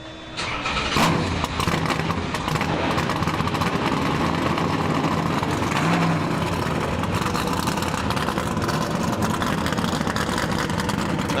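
A field of NASCAR Truck Series engines fires up at once at World Wide Technology Raceway at Gateway, a sudden loud roar that settles into a dense, continuous rumbling idle with occasional revs.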